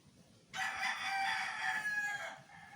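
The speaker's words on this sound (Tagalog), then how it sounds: "Nagaantay na naman ang ating mga alagang manok." A rooster crows loudly and close, one long drawn-out call, over a faint background of clucking hens.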